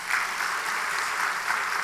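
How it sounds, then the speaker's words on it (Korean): Church congregation applauding during a Sunday evening service, a steady dense wash of clapping that holds at even loudness throughout. "우리 한번 박수를 한번 하세요."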